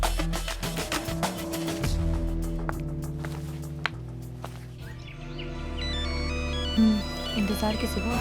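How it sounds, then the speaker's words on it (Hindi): A mobile phone ringtone rings steadily, a repeating electronic melody at moderate loudness over a low background hum, with no talking over it. "परी का फोन है।"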